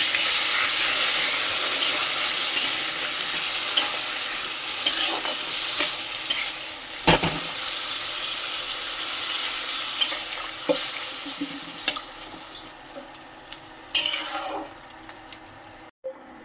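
Water poured into a pan of frying spiced potato and cauliflower, a steady loud sizzle and hiss with scattered stirring scrapes and clinks throughout.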